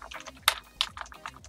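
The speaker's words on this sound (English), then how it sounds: "Maybe I'd be better off just typing that." Brief burst of typing on a computer keyboard, a handful of close, crisp key clicks in an uneven rhythm with a couple of sharper strikes, no voices.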